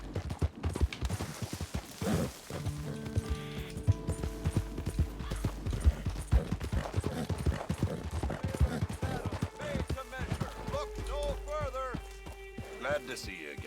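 Hooves of a horse clip-clop at a steady trot in Red Dead Redemption 2, a close, rhythmic run of sharp knocks with occasional mechanical clatter and a brief whinny, under intermittent speech.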